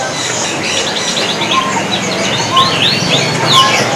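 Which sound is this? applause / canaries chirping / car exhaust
canaries chirping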